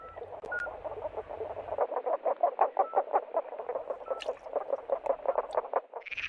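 A spadefoot toad sings a low-pitched call: a steady train of rapid, evenly spaced pulses repeating for several seconds at moderate volume, with faint background noise.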